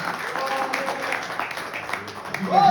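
A congregation claps during an evangelical church service, a moderate wash of applause mixed with voices and sung or spoken tones throughout.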